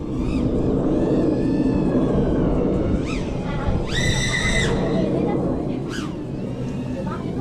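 High-pitched whining FPV drone motors on 6S power scream and rise in pitch at full power, a loud continuous roar with sharp pitch swoops, voices speaking underneath.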